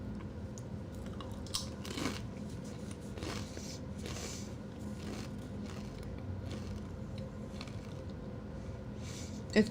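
Doritos chips chewed right at the microphone, giving repeated close, crisp crunches in an irregular rhythm against a quiet backdrop.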